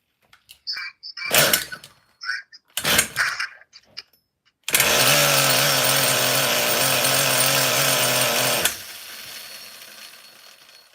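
A small engine is pulled over with a few short rasping bursts, then catches and runs at a loud, steady high idle for several seconds before cutting off abruptly, close by.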